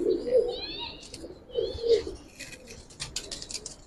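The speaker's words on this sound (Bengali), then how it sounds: "হ্যাঁ অনেক সুন্দর কবুতর মাশাআল্লাহ" Pigeons cooing close by, several low throaty coos in two bursts with a few chirps, light clicks and rustling.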